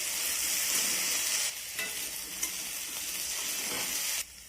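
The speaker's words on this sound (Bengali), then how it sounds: "এখন আলুগুলো নেড়ে চেড়ে ভালো করে ভেজে নেব" Potato pieces fry in a pan, making a loud, dense sizzle with intermittent scraping stirs. The hiss drops off abruptly near the end.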